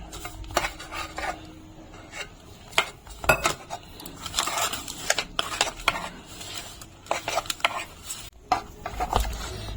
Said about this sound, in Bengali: এখন আমি অল্প অল্প জল দিয়ে এটাকে মেখে নেব